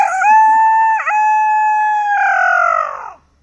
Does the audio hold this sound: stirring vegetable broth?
no